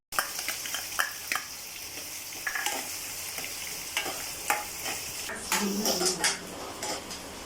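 Sizzling of rice being tempered in a hot pan, with a spoon scraping and clinking against metal in irregular strokes, no voices.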